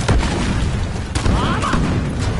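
Video game gunfire sounds as heavy, rumbling bursts mixed with game noise, with a distinct crack about midway through.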